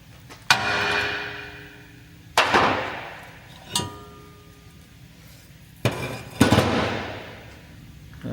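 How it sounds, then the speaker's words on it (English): A hammer strikes a stuck rear brake disc on a Volvo XC40 four times, sharp metallic whacks with ringing decay, close and loud, spaced a second or more apart. "just give it a few firm whacks with an hammer just around the edge there"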